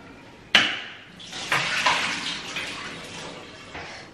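Water splashes and runs over a large cooking pot as it is rinsed in a home kitchen, with a sharp knock at the start and a few clanks of metal through the steady wash.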